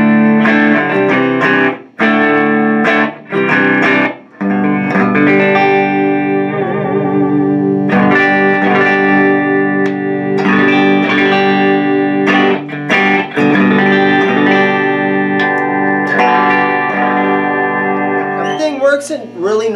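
A Hamer XT Series Scarab electric guitar plays on its neck pickup through effects, sustained chords and notes ringing loud and close with a few short pauses between phrases.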